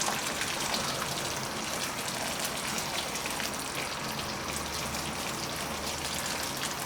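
Water pours steadily into a pot of Cantonese coconut beef curry, covering the meat in a continuous, even splashing gush that holds at the same level throughout, with no voices.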